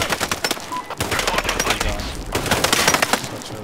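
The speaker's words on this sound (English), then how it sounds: "Shots nearby!" Gunfire in the video game Sniper Ghost Warrior 3 during an outpost fight, a quick cluster of sharp shots and bursts with game ambience underneath, fairly close.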